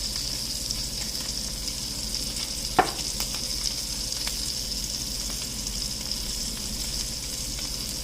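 A salmon steak sears in a hot pan with a steady, even sizzle and crackle. A single sharp tick stands out early on, and no one speaks over the frying.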